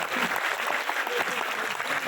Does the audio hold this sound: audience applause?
yes